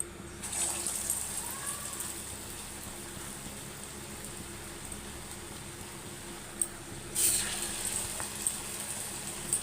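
Egg chops coated in gram-flour batter fry in hot oil in a wok, a soft, steady crackling hiss with a couple of brief louder sputters near the end.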